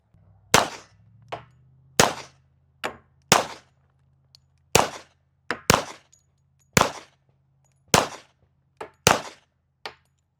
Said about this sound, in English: He's gonna throw a couple rounds down range with the 45.